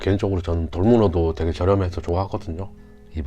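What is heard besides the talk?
None of the usual background noises is heard.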